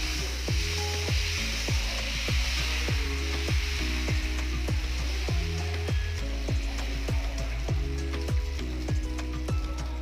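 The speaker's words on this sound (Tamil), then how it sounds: "இப்போ தோசை ஊற்றிக்கலாம்" Dosa batter hitting a hot pan, with continuous loud sizzling and a steady series of regular sharp ticks and scrapes throughout.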